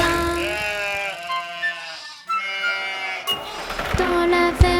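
Sheep bleat in a French children's nursery rhyme about a farm. The long wavering bleats come close and loud over music, and a sharper burst of sound closes the passage.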